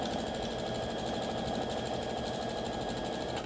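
A sewing machine stitches a seam on a double star quilt block, its motor giving a continuous, even whirring hum throughout with no talk.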